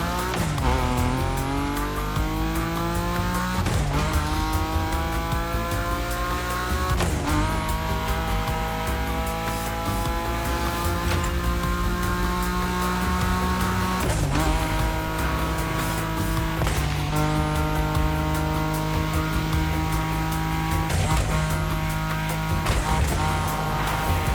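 Cars drift in The Crew Motorfest video game, with steady engine drone and long rising revs, broken at intervals by tire squeal and skidding as the car slides through turns, loud and continuous with no talk.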